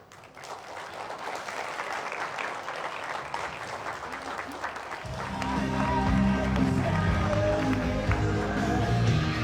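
An audience in a hall breaks into applause, the clapping building from scattered hands to a fuller, louder round that carries on steadily, with a voice over a sound system heard at the start.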